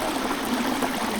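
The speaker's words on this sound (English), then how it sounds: "2 inches thick of water coming through here, really making a fun naturalistic stream and waterfall" A shallow sheet of water about two inches deep runs over a newly built naturalistic garden stream and cascading waterfall, giving a steady, close rushing and trickling wash with no voices.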